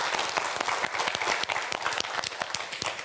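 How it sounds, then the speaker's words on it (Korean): Studio audience at a televised quiz show applauding a student contestant, a dense, loud, continuous round of clapping with no voices over it. "우리 이상혁 학생에게 큰 박수 부탁드립니다"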